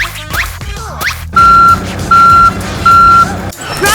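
A dump truck on a road construction site sounds three loud, evenly spaced reversing beeps over steady engine rumble, with no talk.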